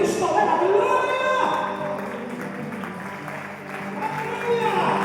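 A church congregation in Celaya, Mexico claps together in worship, a broad wash of applause under a preacher's amplified voice and crowd sounds that dips in the middle and swells again near the end.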